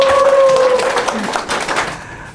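A lecture audience applauds to welcome a speaker at a talk by the Chungcheongbuk-do education superintendent. The clapping is brief and fades out, and a voice is heard briefly at the start.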